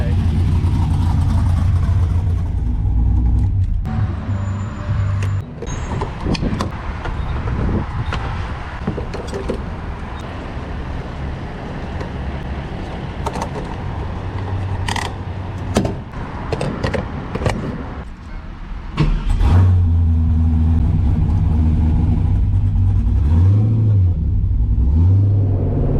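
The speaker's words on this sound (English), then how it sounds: "This is the 99 Camaro Z28, ripping up the streets today." A cammed LS V8 in a 1999 Chevrolet Camaro Z28 heard from inside while driving, with a deep rumbling idle, loud revs and a lumpy lope that returns near the end, mixed with cabin clatter and someone talking over it.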